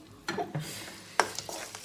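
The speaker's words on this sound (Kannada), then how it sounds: "ಬಿಸಿ ಅನ್ನನ ಇದಕ್ಕೆ ಹಾಕ್ಕೊಂಡು ಚೆನ್ನಾಗಿ ಕಲಿಸ್ಬೇಕು." Hot cooked rice being mixed by hand or spoon into puliyogare tamarind paste, a few soft scraping and stirring strokes with one sharper clink of utensil against the pot, close and quiet, no voices.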